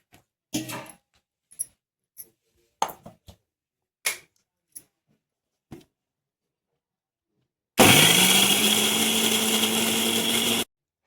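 A mixer grinder grinds cooled, roasted masala of tomatoes and spices into a paste for a soybean curry. A loud, steady motor whine with a slight pitch drop runs for about three seconds after several short knocks and clatters.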